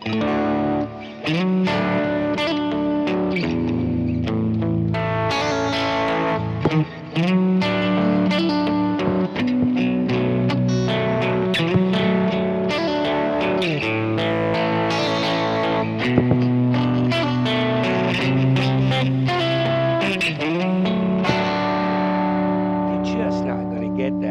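Clean electric guitar, an Ibanez on the neck pickup, playing continuously with warm, full chords and single notes, slightly effected, steady and close throughout.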